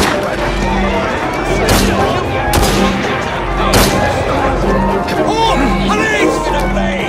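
A pistol shootout in Assassin's Creed Syndicate, with several sharp gunshots spaced irregularly over a dense game soundscape and continuous talk throughout.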